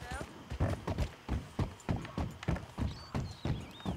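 Horse hooves clip-clopping in Red Dead Redemption 2, a steady walking rhythm of about two or three hoof strikes each second, close and distinct, while a voice talks over them.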